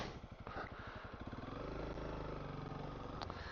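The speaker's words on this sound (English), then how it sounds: "Had to spin my tire in the snow" A Honda CRF300L dual sport motorcycle spins its rear tire in snow in the Arizona mountains, its engine pulsing at first, then revving into a steady, droning whine, close and continuous.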